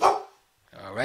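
A dog gives a sharp, close bark, followed after a short pause by a further bark or growl, and a person speaks briefly.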